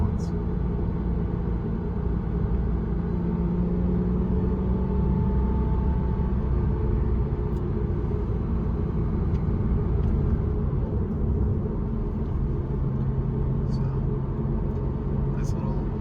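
A Porsche Cayman cruises on a night drive, heard from inside as a steady, low road-and-engine rumble that holds evenly throughout.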